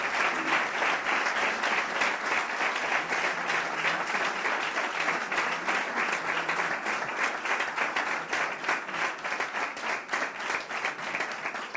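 A seated audience gives sustained applause after a talk at a sports business event, a dense even wash of clapping from many hands that carries on for several seconds without pause.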